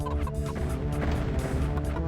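Loud, continuous clucking of chickens in the video game Heretic, a dense overlapping flock chatter close up with game sounds underneath.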